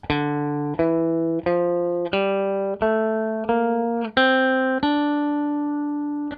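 A plucked guitar plays the D natural minor scale, a slow descending-then-rising run of single notes, each ringing clearly and evenly spaced, with no voices.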